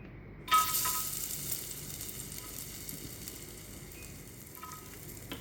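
Cashew nuts dropped into hot ghee for payasam set off a quiet, steady sizzle after a short burst at the start, crackling faintly and evenly with no voices.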